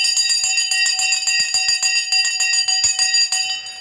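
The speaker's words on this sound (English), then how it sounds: "we're going to ring the bell in" A stock market opening bell rings loudly and continuously, a rapid metallic ringing with steady sharp strikes and no talk, close and sustained for several seconds.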